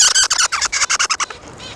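Birds squawk at each other in a rapid run of about a dozen harsh, sharp calls, close and loud, which thin out and fade toward the end.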